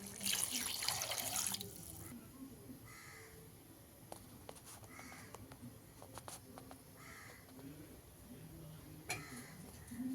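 Water splashes briefly into a pot of cooking chicken with gongura at the start, followed by quiet kitchen ambience, light drips and crows cawing outdoors in the background.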